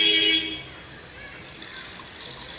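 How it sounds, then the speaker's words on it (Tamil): Water is poured over pounded leaves for a cold and cough remedy, a soft splashing trickle that follows a brief clatter and continues steadily at close range. "இதையும் ஒன்றா ஆட் பண்ணி தேவையான அளவு தண்ணி சேர்த்துக்கலாம்"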